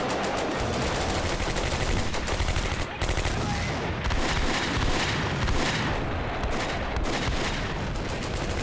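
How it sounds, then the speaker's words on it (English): Dense, continuous battlefield gunfire and booming artillery in the Combat Mission: Beyond Overlord war game, with rapid bursts and blasts crowding the whole clip at steady loudness. "And our artillery is hitting our positions."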